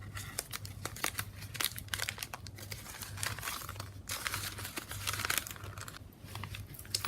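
Tape is torn off and pressed onto folded paper, producing a close run of sharp crinkles, rips and crackling paper handling in quick irregular bursts.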